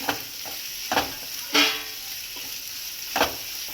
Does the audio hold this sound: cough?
no